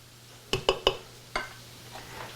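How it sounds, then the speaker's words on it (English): A utensil strikes a pot of potatoes being mashed with butter, three quick close knocks followed by a fourth and a few softer squishes, with no talking. "our potatoes are perfect and ready to be mashed"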